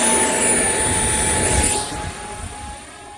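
An RC model A-4 Skyhawk jet with an E-Sun .48 wall width print flies past with a loud, steady airframe roar that fades noticeably partway through, heard alone without talk.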